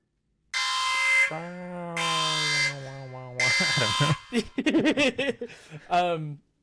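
A harsh buzzing alarm sound effect blares in three long bursts, with a person talking over and between them.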